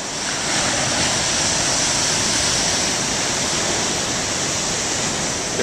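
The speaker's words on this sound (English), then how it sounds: "As long as I can see the waves, that's what counts. At least hear them." Big ocean waves break on a foggy beach, making a continuous loud roar of surf with no distinct individual crashes and no voices.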